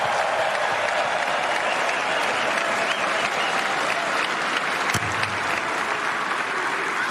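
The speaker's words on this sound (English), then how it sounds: "please give them a round of applause" A large arena crowd at a ceremony honouring LeBron James bursts into sustained, dense applause, a loud continuous wash of clapping and cheering that holds steady from start to finish.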